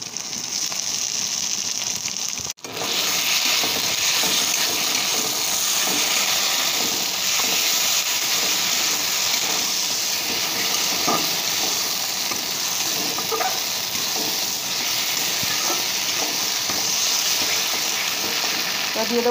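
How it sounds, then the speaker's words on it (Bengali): Ground spice paste frying in oil with softened onions, a loud continuous sizzle and hiss with faint stirring scrapes underneath, no talking. "এবারে বেটে রাখা মশলাগুলো দিয়ে দেবো।"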